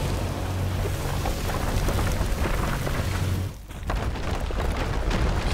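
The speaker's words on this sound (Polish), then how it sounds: "pioruny i ogień!" Crackling lightning and fire attack effects from the Devil May Cry 5 video game, a dense, roaring storm-like burst that runs loud and steady, briefly drops out, then surges back to full intensity.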